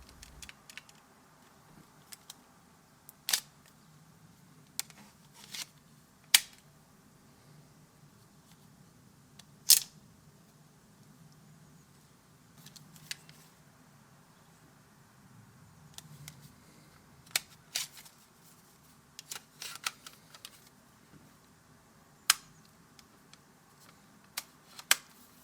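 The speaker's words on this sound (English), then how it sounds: "The keys are pretty clicky, considering that this is designed to be quiet." Keys on a Casio fx-83GT X calculator pressed one at a time, crisp close clicks at an irregular pace, sometimes in quick pairs, over a faint steady room hum with no talking.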